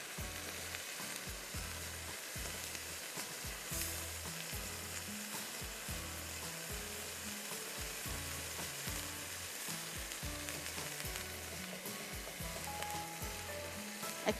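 Minced beef or mutton qeema fries in hot oil with onions in a pan, a dense steady sizzle with a rhythmic pulsing undertone, close and continuous throughout.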